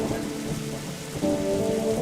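Steady rain pours in The Darkside Detective video game, a dense continuous hiss with a low rumble beneath, heard alone at fairly loud level.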